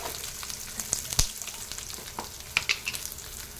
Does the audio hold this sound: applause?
no